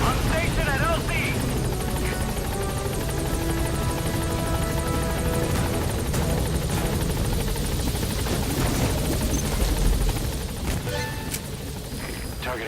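A support helicopter arrives at a landing zone in Metal Gear Solid V: The Phantom Pain, its rotor roar a loud, steady drone close by throughout, with radio-style voices over it.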